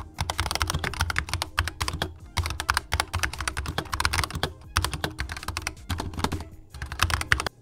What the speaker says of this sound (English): record the audio now so you guys can hear exactly what the keys sound like